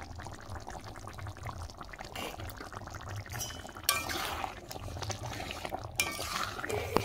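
Ghee is poured into a simmering pot of pointed gourd and prawn curry, giving a soft liquid pouring and gentle bubbling that breaks into two short, louder splashing sizzles near the end.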